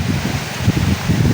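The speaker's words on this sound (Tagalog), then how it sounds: "Ang lakas ng hangin!" Strong gusty wind outdoors buffeting the microphone, a loud low rumbling roar that swells and fades in uneven gusts over a short stretch.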